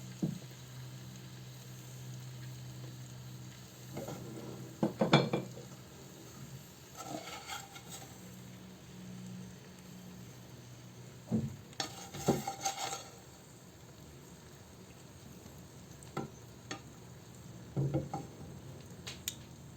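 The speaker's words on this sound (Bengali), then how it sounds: "আমি এখন ভেজে রাখা চিকেনটা দিয়ে দেবো" Already-fried chicken goes into a sizzling pot for chicken kabsa biryani, then gets stirred. Bursts of metallic clatter and scraping recur across twenty seconds over a faint, steady sizzle.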